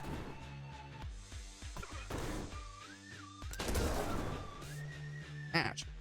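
Grenade explosions in a video game go off as a series of sharp booms and crashes at close range, layered over game music and effects.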